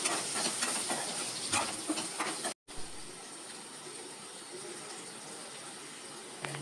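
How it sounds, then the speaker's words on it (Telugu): Ivy gourd fries in oil with turmeric, a steady broadband sizzle and hiss that briefly cuts out then continues evenly, with no talking. "ఈ పసుపులో కూడా ఈ దొండకాయ మంచిగా ఫ్రై అయ్యే వరకు కలుపుకోవాలి"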